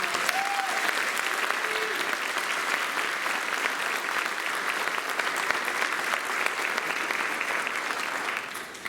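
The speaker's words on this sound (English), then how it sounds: "Let's give these students a round of applause." Sustained, dense applause from an audience at a spring band concert for students, steady and loud throughout before tapering slightly at the end.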